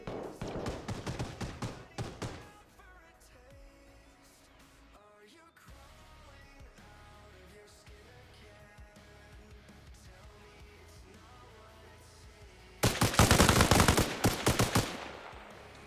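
Gunfire in the video game Arma Reforger, with a loud burst of rapid automatic shots at the start, a quieter stretch of ambient game sound, then another dense, sustained volley near the end.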